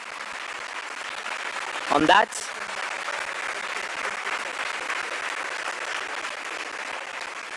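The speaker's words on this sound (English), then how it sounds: "A warm round of applause for His Excellency." An audience at a cultural heritage conference at UNON Gigiri gives a steady round of applause, continuing evenly throughout, broken only by a short burst of a voice near the start.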